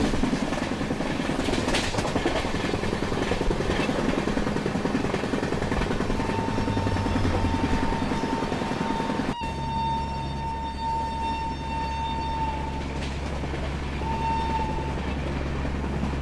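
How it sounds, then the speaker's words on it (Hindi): A Howrah local train approaches on an Indian railway line, heard as a steady, loud rumble with a faint sustained whine rising partway through and continuing to the end. "और एक हावड़ा लोकल ट्रेन आ रही है"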